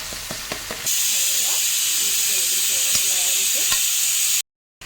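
Spiced pork sizzles and hisses steadily in a hot pan, with a few sharp stir and scrape knocks at the start before a loud, constant frying hiss takes over and then cuts off abruptly.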